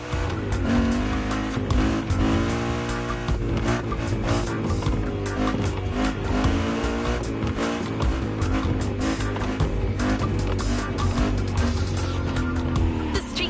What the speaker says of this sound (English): really get a taste of modern Japanese car culture without some proper urban racing and seriously modded customs